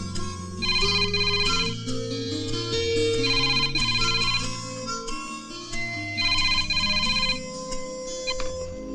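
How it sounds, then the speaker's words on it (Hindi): A telephone rings in repeated bursts of trilling tones over background music in a Hindi movie, three rings spaced a few seconds apart. "ये मैंने फोन लगाया 2 5 6 8 8 8"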